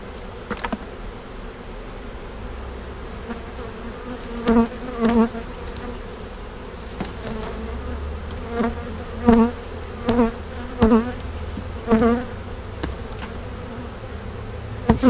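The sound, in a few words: honey bee swarm buzzing around hive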